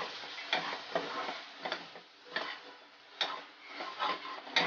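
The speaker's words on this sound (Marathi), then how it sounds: "आता हे सर्वाला पण आपण व्यवस्थित मिक्स करून" A spoon stirs masala and spices in a pan while making matki usal, soft scraping strokes at an uneven pace with a faint sizzle underneath, close and quiet.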